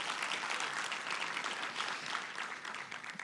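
An audience at a formal conference event applauds SETA executives with steady, fairly faint clapping that continues evenly throughout without any talk.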